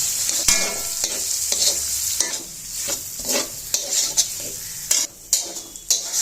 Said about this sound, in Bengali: মুরগির গোস্ত ভাজা শেষ, এখন আমরা ডিম ছেড়ে দিছি।